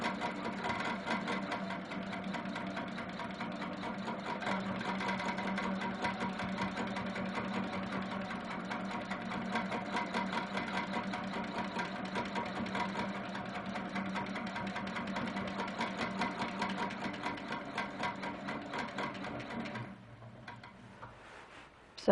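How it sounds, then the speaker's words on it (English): A sewing machine stitches a quilt block in one long, steady run of rapid, even ticking at moderate volume, stopping abruptly near the end with a final click. "And then stitch it out."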